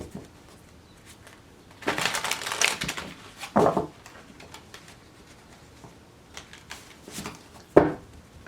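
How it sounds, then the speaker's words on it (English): Tarot cards shuffled by hand, several brisk riffling bursts separated by pauses, close and fairly quiet with no talking. "Alright, one more shuffle."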